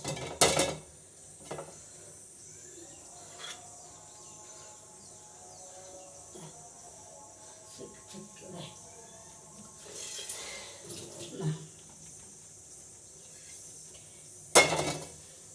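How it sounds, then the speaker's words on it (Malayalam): A cooking pot for chicken curry is set down and handled, giving scattered metallic clinks and knocks over a quiet room. A sharp clatter comes at the start, more bumps follow around the middle, and a loud knock sounds near the end. "ചട്ടി വെച്ചിട്ടുണ്ട് കേട്ടോ"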